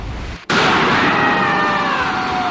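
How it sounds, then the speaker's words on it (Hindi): A single loud balloon pop bursts out in a highly reverberant room, sharp and sudden, followed by a long ringing echo that hangs and slowly fades. "नॉर्मल रूम में जब गुब्बारा फूटता है तो ऐसी आवाज आती है"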